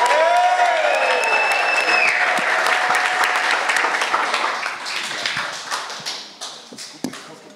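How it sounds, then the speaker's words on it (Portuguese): Audience in Taboão da Serra, São Paulo, claps loudly at a community event, with whistles and cheers over the dense applause, which thins toward the end into scattered claps. "Quem tá gostando, bate o palmo e faz barulho!"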